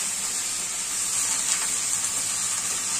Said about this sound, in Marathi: आता आपण ही मेथीची भाजी मिक्स करून घेऊया